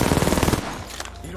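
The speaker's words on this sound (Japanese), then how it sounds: "敵だ、かなり近い。 発砲中。" Rapid automatic gunfire from a close enemy in the video game Apex Legends, a dense burst of shots that cuts off after about half a second, leaving quieter game ambience with a faint tonal sound.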